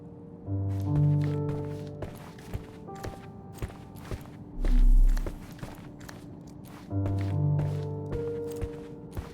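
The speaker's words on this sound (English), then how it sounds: "I heard footsteps upstairs a second ago." Footsteps echo from upstairs in a Sherlock Holmes video game, a run of rapid, fairly close steps over steady musical tones, broken by a low thud and followed by another burst of steps.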